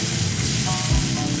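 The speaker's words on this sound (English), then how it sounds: "heat up some oil. Add garlic. Add soy sauce, fish sauce, and rice wine vinegar. Add chili oil." Garlic, soy sauce, fish sauce, rice wine vinegar and chili oil sizzle steadily in hot oil in a pan, a dense continuous hiss with a brief low thump near the end.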